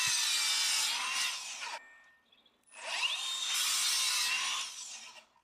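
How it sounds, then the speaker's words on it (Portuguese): A wooden slat salvaged from a roof is cut with a power saw in two loud, close passes, each a sustained high whine of blade through wood separated by a brief quiet gap. "Gire a peça 180 graus e faça outro corte para criar uma ponta precisa."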